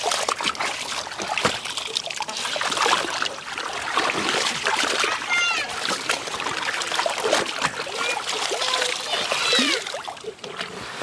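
Water splashing and trickling steadily while laundry is rinsed by hand, with clothes sloshed in clear water at close range and children's voices chattering over the wet sounds throughout.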